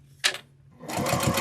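A sewing machine makes a short back stitch while top-stitching a snowman wristlet strap in cotton thread: one brief burst, a pause, then a steady whirring run of the needle.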